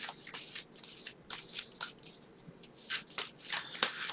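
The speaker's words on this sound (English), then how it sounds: "Give you a good shuffle." A deck of oracle cards is shuffled by hand in a run of crisp riffling bursts, close and fairly loud, with short pauses between them and no talking.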